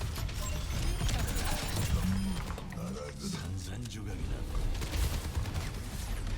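Rapid automatic gunfire in the Overwatch 2 arcade mode, bursts of mechanical shots and clatter running throughout, with a player talking over much of it.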